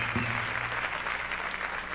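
Audience at a Christmas music show applauds the house band with full, continuous clapping that stays fairly even and fills the room for the whole stretch.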